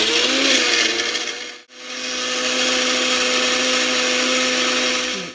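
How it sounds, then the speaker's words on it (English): A Bella blender whirs steadily as it blends a whey protein breakfast drink, a loud close motor drone that briefly cuts out and then restarts, running on alone without talk. "place it into your Bella blender, and you just press it down"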